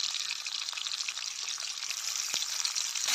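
Onions and ginger-garlic paste hitting hot oil in a frying pan, a steady close hiss of sizzling that swells slightly toward the end, with no talking.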